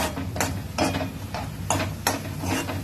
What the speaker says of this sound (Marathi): हा कांदा व्यवस्थित परतून घ्यायचा.